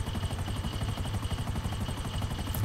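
A helicopter flying over the city in GTA 5 Online, its rotor chopping in a fast, steady pulse beneath a constant engine whine, close and continuous with no talking.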